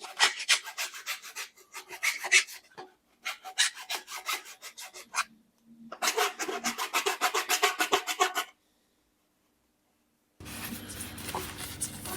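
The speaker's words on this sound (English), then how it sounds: "So just using a half round file." A half round file rasps burrs off the cut end of a plastic waste pipe in short, repeated scraping bursts, close and crisp, with pauses between strokes and a quiet stretch near the end.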